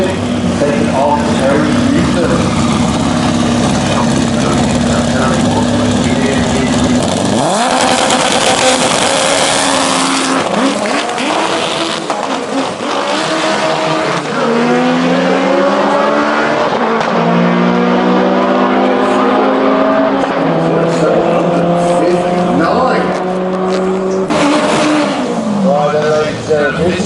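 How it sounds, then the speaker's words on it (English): A 700 bhp K20-powered front-wheel-drive Honda Civic EG drag car launches at a doorslammer drag race, its engine screaming loud and close through rising revs and gear changes over crowd noise. "Honda Civic taking off"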